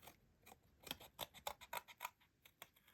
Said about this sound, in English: I'm just cutting this out, and I'm just leaving a white border.